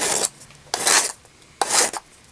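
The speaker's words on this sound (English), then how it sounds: "We're going to clean that up with a file" A metal file rasps across the jagged cut edge of an aluminum can while making a penny can stove, three separate bursts of rough scraping, each about half a second long, close and fairly loud with quiet gaps between them.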